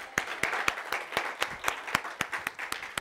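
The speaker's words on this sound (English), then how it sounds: "Let's give a hand clap to the Lord, everybody." A church congregation at a Sunday service claps steadily in a brisk, even rhythm, close and moderately loud, with no talking over it.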